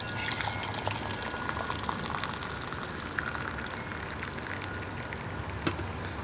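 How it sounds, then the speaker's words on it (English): Yellowish-green tea is poured from a pot into a cup in one steady, continuous liquid stream lasting several seconds, close and fairly quiet with a soft trickling hiss. "pouring it in my cup"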